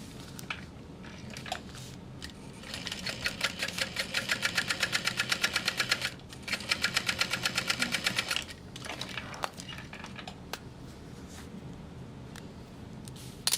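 A sewing machine top-stitching a quarter-inch seam on a sling runs in two fast, steady rattling bursts, close and loud, with brief pauses and fabric handling before and after.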